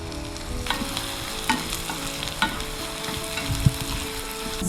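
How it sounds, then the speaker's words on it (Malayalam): Ground coconut chutney is dropped into a hot tempering of mustard seeds, curry leaves and browned onions. It gives a steady close sizzle and crackle, with scattered stirring clicks and no talk. "ഇനി നമ്മുടെ ചട്നി അരച്ചത് കൂടെ ഇടാം."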